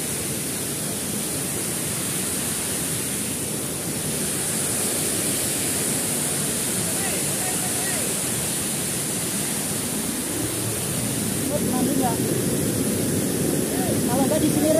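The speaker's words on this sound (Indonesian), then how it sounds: "Inilah air terjun Bloksen." Rushing water from the Bloksen waterfall near the border of Muara Ritan and Buluk villages, a steady broad roar heard close and loud throughout, swelling slightly toward the end.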